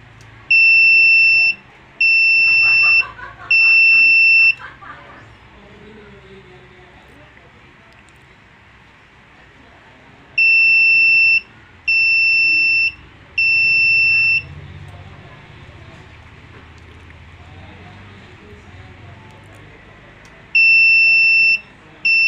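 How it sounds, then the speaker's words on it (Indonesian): An RFID smart key module's buzzer sounds in groups of three loud, sustained electronic beeps, repeating about every ten seconds, with quiet background noise between the groups. "Buzzer berbunyi dan LED pun menyala, indikasi kontak on."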